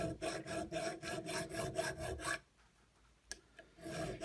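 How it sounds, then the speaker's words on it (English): A rough file rasps back and forth across a copper motor commutator from a Bosch Classixx 6 washing machine, about a dozen quick rhythmic strokes up close, then stopping into near quiet with a single faint tap. "So I've moved on to a rougher file, and what that's doing is it's caking copper into the gaps."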